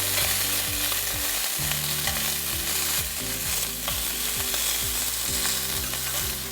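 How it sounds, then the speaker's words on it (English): Sausages brown in a hot pan, a dense loud sizzle running without pause, with a steady low hum of background music beneath. "So as our sausages start to brown up and they release easily from the pan, we can just flip them over."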